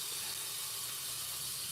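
Steam hissing from sausage cooking in a covered pan with a little added water, a steady even hiss throughout, close and moderately loud with no talk.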